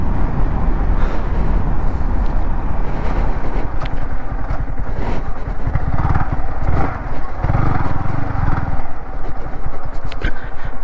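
Two sport motorcycles, a Yamaha R15 V3 and a Bajaj Pulsar NS200, rumble loudly and close throughout, with steady low engine noise and a few rising revs, and no voices.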